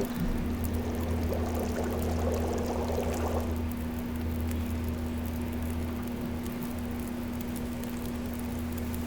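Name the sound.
boiling water and melting snow in video game The Long Dark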